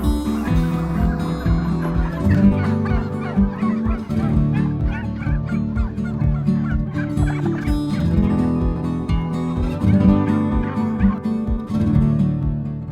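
A large flock of farm turkeys gobbles continuously, many overlapping rattling calls loud and close, forming a dense, busy chorus with no talking.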